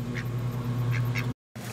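Duck quacking a few times at close range by the water at Christchurch or Akaroa, New Zealand, over a steady low background hum, with a brief gap of silence near the end.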